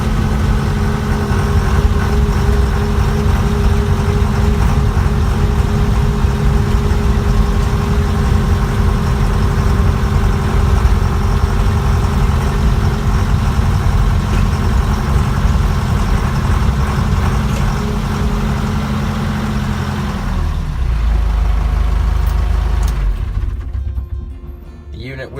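Engine of a 2003 ALLTRACK AT-30HD tracked unit runs steadily while driving, a loud, close, low rumble that holds for most of the stretch before dropping off and fading near the end.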